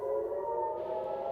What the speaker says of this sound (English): sirens sounded in Haifa in Israel as they attempted to intercept Iranian missile.